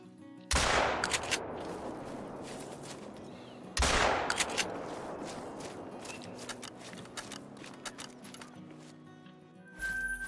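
Two loud rifle shots ring out while hunting in theHunter: Call of the Wild, a few seconds apart. Each is a sharp crack followed by a long, fading echo, with small clicks and movement sounds in between.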